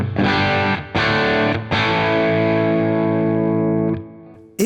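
Electric guitar on the bridge pickup through a Mesa Boogie Electra Dyne amp at the edge of breakup: two short strummed chords, then a long sustained chord ringing for a few seconds before it is cut off, loud and close.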